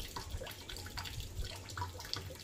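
Water drips and trickles from an open drum, a faint wet patter with scattered small drops against a quiet background.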